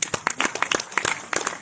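At an award ceremony held by the Navratna Foundation at Mangalam Institute, a small audience claps in scattered, uneven bursts of distinct handclaps, moderately loud and close by.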